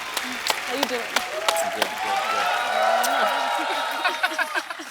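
A studio audience at a comedy show breaks into applause for a singer, sustained clapping that swells and fades while people talk over it.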